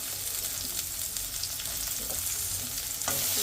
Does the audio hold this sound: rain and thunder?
no